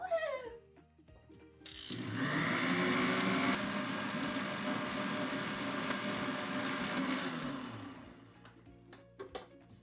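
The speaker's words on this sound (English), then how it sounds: "Next, we're going to mix on high speed for 2 minutes so it can be nice and combined." An electric mixer whips gingerbread batter on high speed, a loud, steady whirring drone that starts abruptly, runs for about five seconds close up, then cuts off, with no talking.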